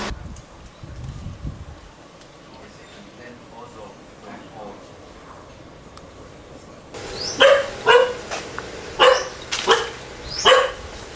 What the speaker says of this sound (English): Why are you barking for me?